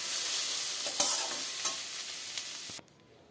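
Red amaranth leaves (lal shak) frying in a pan, a bright steady sizzle with a few spatula stirs, stopping abruptly near the end.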